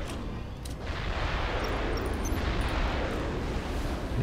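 Tech 2 artillery in Supreme Commander: Forged Alliance booms out a continuous low rumbling barrage of fire and impacts, dense and sustained throughout with no talking.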